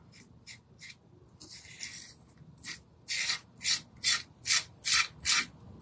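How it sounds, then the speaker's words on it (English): Scraping down wood on a handmade bunny shelf: rhythmic rasping strokes, scattered at first, then a regular series of loud close scrapes, with no voices. "So I'm just scraping this down."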